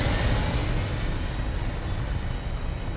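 A Fallout 4 aircraft roars through a steady, dense engine rumble that holds loud and close for the whole stretch, with no voices over it.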